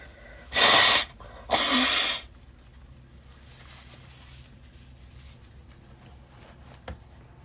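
Two loud, breathy bursts close to the microphone, one right after the other, like sneezes, followed by quiet room tone.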